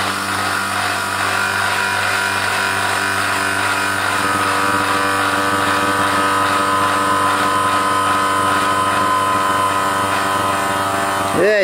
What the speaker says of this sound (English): I switch the pump on